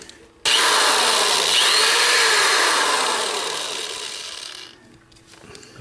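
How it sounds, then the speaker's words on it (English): A small power drill boring an axle hole into a die-cast Corgi 267 Batmobile toy car during restoration, a sudden close whirring whine that holds steady, then slowly drops in pitch and fades before cutting off. "Now what we gotta do is drill a hole in the other side here, so it'll fit onto our axle."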